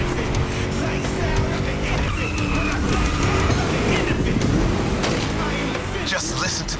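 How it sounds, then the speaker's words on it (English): A V8 engine roars as a car races in The Crew Motorfest, loud and close, with continuous revving, shifting pitch and tire squeal over the whole stretch. "Just listen to that V8"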